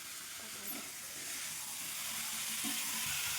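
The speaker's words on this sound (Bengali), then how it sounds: "একদম ফ্রেশ চিকেন আর আলু দিয়ে ভালো করে রান্নাটাকে কষিয়ে বর্ধনটা ঘোরাও" Chicken and potatoes frying in a pot while being stirred, giving a steady broadband sizzle with a few soft scrapes and knocks from the stirring.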